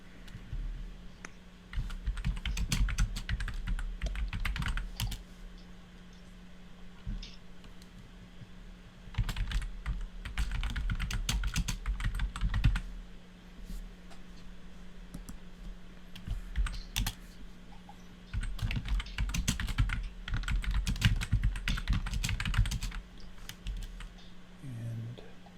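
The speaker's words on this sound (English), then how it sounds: "so I'm just typing up the notes of what I said" Computer keyboard typing meeting notes during an online work meeting, in bursts of rapid, close key clicks separated by brief pauses, with no talk over it.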